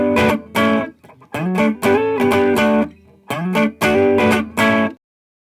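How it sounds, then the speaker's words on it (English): Gibson Les Paul electric guitar through a clean amp setting playing a rock riff, loud choppy strummed chords in short bursts with brief gaps, alone and ending abruptly. "this is a rock riff, but I'm actually going to use a clean setting with my Les Paul"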